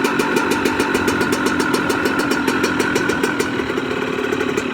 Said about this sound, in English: see, bike starts first kick. I'm gonna let her warm up a little bit